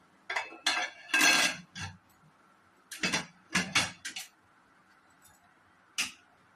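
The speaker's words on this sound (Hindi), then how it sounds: "अब इसको ये ढक्कन को लगा दूंगी।" Metal clinks and clatters as a lid is fitted onto a pressure cooker with its rubber gasket and whistle removed, several short close knocks and scrapes in bursts separated by quiet pauses.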